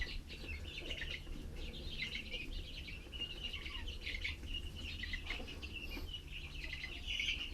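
Young turkeys about six weeks old, one blue and one white, chirp and peep in a steady scatter of high calls over a constant low background hum, with no talking.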